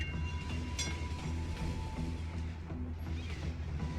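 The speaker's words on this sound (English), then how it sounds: "the train is full and not picking up anybody" Train in the city-building game Cities: Skylines, a steady low rumble of rail cars with faint periodic clacks and a brief high squeal, continuous and moderately quiet with no talk.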